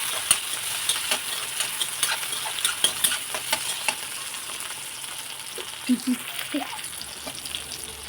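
Chopped tomatoes with garlic sizzle and crackle as they fry in a pan for chutney. A utensil stirs and scrapes against the pan in uneven strokes, close and fairly quiet, with no talking.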